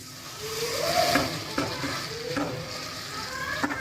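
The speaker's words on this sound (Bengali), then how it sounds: "এখানে সর্ষের তেল দিয়ে দিয়েছি আর কালো জিরে দিয়েছি কাঁচা লঙ্কা দিয়েছি" Nigella seeds and green chilli sizzle in hot mustard oil in a wok, a steady close crackling hiss with a few sharper pops and spatters throughout.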